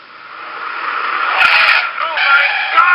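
Car tires skid and squeal under hard braking, a loud, sustained screech building over a few seconds with a brief dip and renewed squeal near the end.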